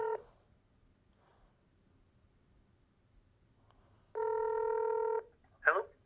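A telephone call is dialed with DTMF keypad tones: a short tone, a pause, then a longer tone burst followed by a brief electronic chirp, clear against a quiet room.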